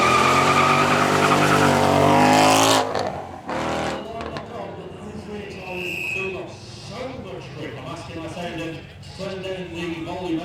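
A supercar braking hard on brand-new rear tyres at a supercar weekend demo gives a loud tyre squeal and engine roar for about three seconds, then quieter crowd and announcer talk continues.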